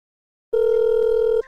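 A steady telephone tone plays on a call to a friend during a game show, one sustained electronic note lasting about a second, loud and close with no talk over it.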